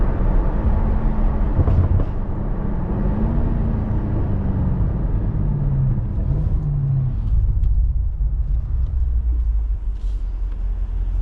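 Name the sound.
vehicle driving in two-wheel drive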